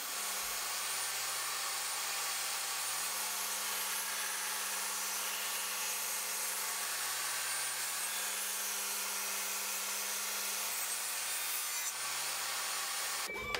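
A saw cuts a 45-degree bevel along a wooden board, giving a steady, continuous rasping cut with a low motor-like hum underneath, close and with no voices.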